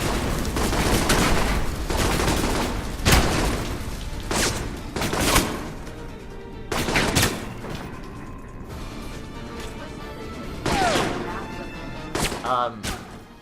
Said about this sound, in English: I didn't expect the shotgun blind fire to work that well.